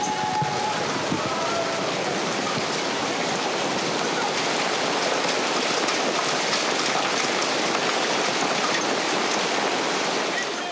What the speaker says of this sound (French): c'est un énorme orage de grêle qui s'abat sur la ville